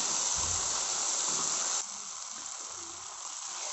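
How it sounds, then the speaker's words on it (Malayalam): Chopped tomatoes sauté in a pan for a semiya egg biriyani, giving a continuous close hiss and sizzle that eases slightly partway through. "ആ ഉതിരിക്കിട്ടിട്ട് നല്ലൊന്ന് വഴറ്റിയെടുക്കുക."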